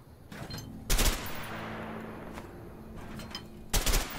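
Gunshots in the video game A Way Out, two loud sharp bursts of rapid fire separated by a few seconds, with ringing decay and faint lighter shots in between.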